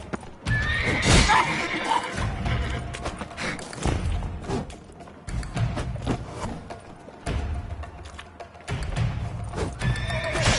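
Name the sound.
horses neighing and hooves clip-clopping, from video game Witcher 3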